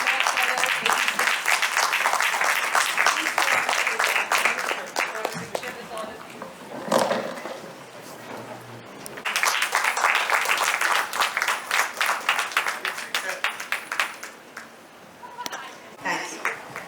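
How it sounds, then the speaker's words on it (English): An audience at an award ceremony at Birla Planetarium in Hyderabad breaks into applause in two long bursts with a brief lull between them, loud and close, while voices carry on underneath. "A big round of applause for our"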